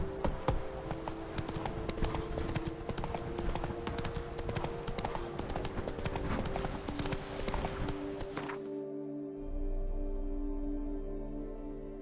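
Roach the horse gallops in The Witcher 3 video game, a steady clip-clop of hooves running continuously and close for about nine seconds before stopping, leaving a low hum.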